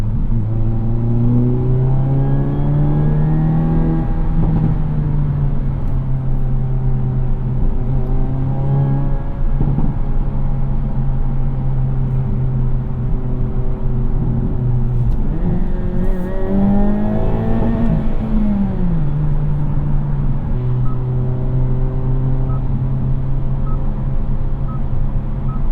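A 2022 Hyundai Elantra N with a six-speed manual revving while driving, a steady loud engine drone that rises and falls in pitch with throttle, with road and cabin noise throughout.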